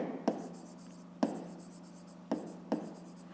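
Numbers are handwritten during a fifth-grade maths exercise, with four distinct pen or chalk strokes spaced about a second apart against quiet room tone. No one talks.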